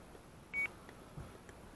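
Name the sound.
radio transmitter switch warning beep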